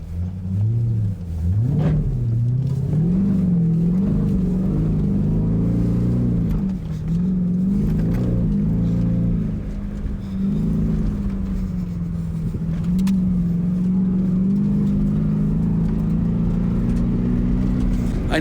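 A Ford Raptor R truck climbs a rutted sand hill off-road, its engine roaring loud and close with sustained revving that rises and dips as it works over the ruts, with occasional thumps from the rough ground.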